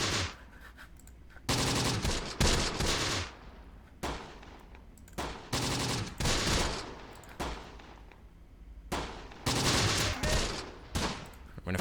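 Bursts of machine-gun and rifle fire from the WWII tactics game Close Combat: The Bloody First come in repeated loud volleys with short gaps between them, sharp and punchy, with no talk over them.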